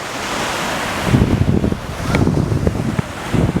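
Ocean surf on a long beach at a Mexican resort, with a continuous wash of breaking waves under strong gusting wind buffeting the microphone, loud and close with no speech.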